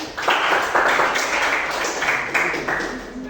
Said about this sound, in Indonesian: berarti memang kelompok satu sudah kami tepuk tangan